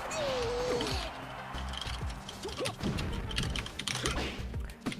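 Keyboard typing on a Falco Magistush Ninja TKL with brown switches, a steady run of light clicks and clacks close by, with a low chatter of voices and background game noise underneath.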